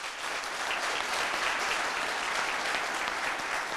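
Sustained audience applause welcoming a guest onto a television talk-show set, a steady dense wash of clapping filling the whole stretch with no break.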